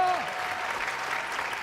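A studio audience breaks into steady, dense applause for the first-level winner of a televised game show, clapping continuously and fairly loudly from start to finish, with a brief spoken voice at the very start.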